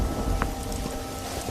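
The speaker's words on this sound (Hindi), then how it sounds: "धीरे धीरे बारिश बढ़ जाती है और चारों तरफ पानी ही पानी हो गया था" Steady rain falling, a dense continuous patter with low rumbling underneath and no voices.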